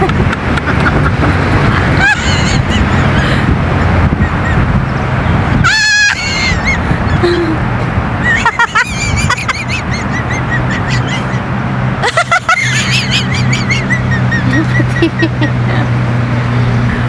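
Traffic passes on a street in the Philippines, with several short honks of a vehicle horn over steady road rumble and background voices.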